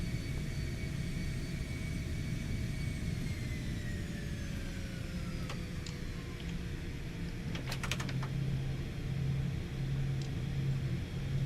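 A Cessna Citation X business jet taxis after landing at Nizhny Novgorod in a flight simulator game, its steady engine whine holding a slowly falling tone over a low rumble, with a few sharp clicks and no voices.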